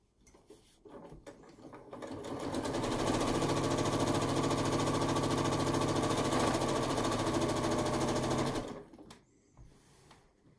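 A sewing machine stitching quilt-as-you-go rows with sashing strips, ramping up to a steady fast mechanical whirr with rhythmic needle clatter for several seconds, then slowing to a stop, close and alone.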